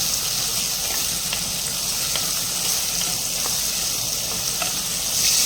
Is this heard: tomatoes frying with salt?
yes